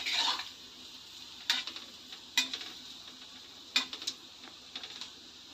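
Palm fritters frying in oil over a low gas flame, a faint steady sizzle broken by several crisp scraping and clinking stirs from a utensil at irregular intervals, close and quiet with no voices.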